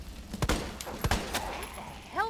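Several sharp gunshot bursts in Resident Evil 2 crack out in quick succession, fairly punchy but a little distant, with faint background sound between the shots.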